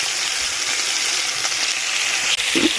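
Meat fries in a pan for Uzbek shurpa, a loud, steady, close hiss and crackle of sizzling oil that runs continuously with a brief clink near the end and no talk.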